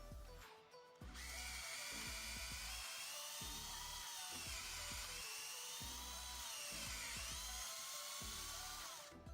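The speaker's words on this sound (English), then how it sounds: "Now I'm going to show you how to drill a hole in the tree." A power drill bores a tap hole into a maple tree trunk, a loud high whine running steadily for several seconds after a short start, with uneven pulsing as the bit bites into the wood.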